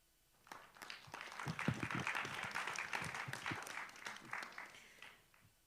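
An audience at a health debate applauds, a crowd clapping that swells and then fades over several seconds at a moderate distance.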